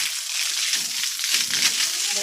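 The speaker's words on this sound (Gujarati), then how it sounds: "હા પાણીની પિચકારી ચાલુ કરી." A water sprayer hisses onto a tiled floor being laid with cement, a steady spraying wash with faint sloshing underneath, heard alone.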